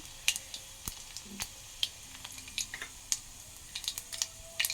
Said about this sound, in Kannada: ಸ್ವಲ್ಪ ಬೆಳ್ಳುಳ್ಳಿ ಕುಟ್ಕೊಂಡಿದ್ದೆ ಸ್ವಲ್ಪ ಅದನ್ನ ಹಾಕಿದ್ದೀನಿ ನೋಡಿ ಈ ರೀತಿಯಾಗಿ ಇದಾಗಬೇಕು